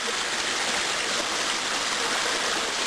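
Creek water rushes and flows steadily in a close, loud, unbroken wash, heard alone with no talk, while walking up a creek in the Coromandel hills.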